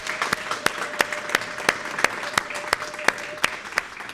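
Claps ring out at a community gala celebrating a Somali cultural museum, heard as a regular series of sharp, evenly spaced hits over a steady background of lighter clapping, moderately close.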